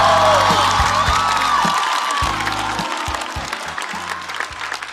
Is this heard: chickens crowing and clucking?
no